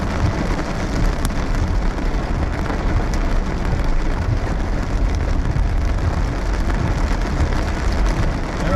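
Heavy hail mixed with rain pounds down in a storm near DFW, a dense, constant roar of impacts on surfaces that stays loud and even from start to finish.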